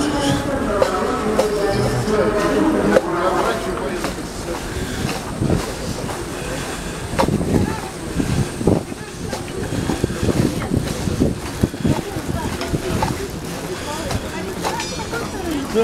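Steady rumbling rattle and rushing noise from inside the last carriage of a moving train, continuous and fairly loud, with clacks and jolts throughout.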